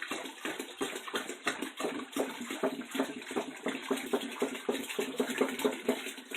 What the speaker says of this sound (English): Nothing like hearing water dump into a bucket, huh?